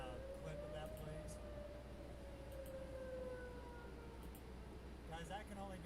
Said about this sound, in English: You can hear the tornado sirens from Justin's stream right now